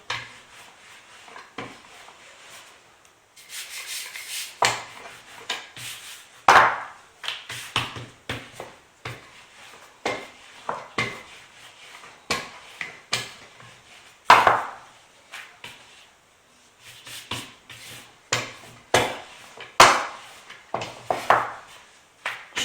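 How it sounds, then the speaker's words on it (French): Naan dough is rolled out with a rolling pin on a floured work surface, heard as irregular soft knocks, taps and rolling thuds, close up with quiet pauses between bursts. "je vais détailler à l'aide du rouleau à pâtissier sur un plan de travail bien fariné"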